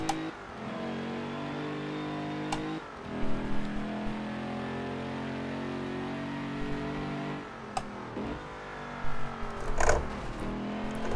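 Racing car engine in the Forza video game, revving and shifting with sharp drops as it slows hard for corners, then accelerating again; loud, steady and close across the whole stretch, with no talk.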